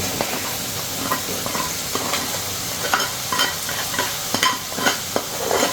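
Potatoes sizzle and crackle in hot butter after a tempering of spices, with repeated stirring scrapes and clinks against the pan throughout.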